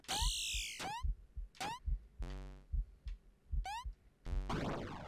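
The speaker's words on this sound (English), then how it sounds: "I hear a heartbeat and the beat of a drum." In the platform game Eversion, a steady, low thumping heartbeat pulses under bright chirping and tonal game effects, fairly quiet with no talking.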